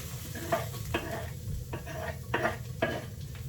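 Garlic sizzles in olive oil in a pan, a low steady frying hiss under several distinct scrapes and clinks of a utensil against the pan, close but fairly quiet, with no talk.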